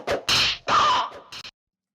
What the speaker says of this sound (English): Sort of punching sounds.